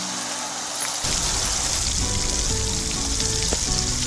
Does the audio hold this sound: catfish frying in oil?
yes